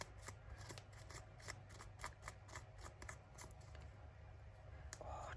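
Scissors snip repeatedly through paper while trimming a cheque book junk journal, a run of quick, quiet, close-up cuts in an irregular rhythm.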